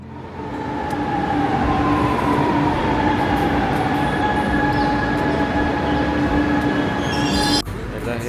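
A metro train in India rolls along with a loud, continuous rumble. Sustained wheel squeal and tonal whine hold steady throughout, then a sharp shift comes near the end as the train brakes or passes a joint.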